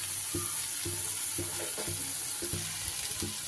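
Spice paste for an elephant-foot yam and prawn curry fries in a pan, a steady sizzle under roughly seven rhythmic scraping stir strokes, close and fairly loud, with no voices.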